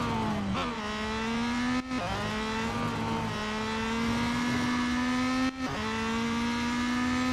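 Race car engines in the mobile racing game Real Racing 3 drone loudly and continuously, the pitch climbing through gear shifts with brief drops at each change, no voice over the engine sound.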